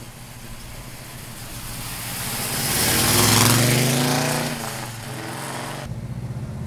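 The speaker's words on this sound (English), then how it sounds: "Listen to that exhaust system sing." The V8 exhaust of a 1966 Chevrolet Chevelle with a 454 and a five-speed rises in a smooth rev, swelling louder near the middle and then easing back to a rumbling idle.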